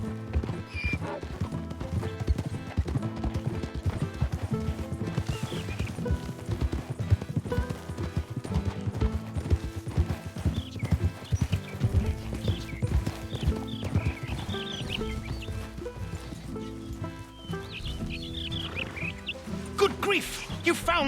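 Donkey hooves clip-clop through Red Dead Redemption 2, steady hoofbeats and horse-like whinnies layered over a dense game soundscape with music and ambient noise throughout.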